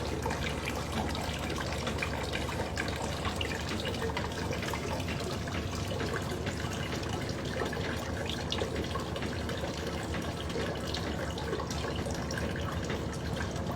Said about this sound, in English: We'll let it run in the wash mode until we get almost all the water we get out of it.